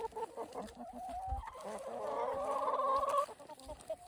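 Hens, including a pair of young black pullets, cluck and murmur close by in a backyard flock, a run of rising, warbling clucks that swells toward the middle and then fades out.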